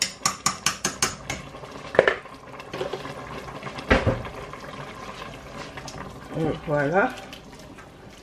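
Pork meat being washed in water in a home kitchen, with splashing, rinsing and clinking of a bowl or utensils, while someone talks over the watery sounds throughout.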